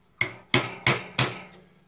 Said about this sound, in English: now I can just use a punch just to sort of tap the whole thing into place